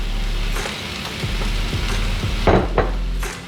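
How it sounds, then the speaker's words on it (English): A spoon stirs ramen noodles with chopped scallions and a handful of spinach in a pot, close and loud, with scraping clinks against the metal, wet sloshing and an underlying sizzle. "Now we just start stirring it all together."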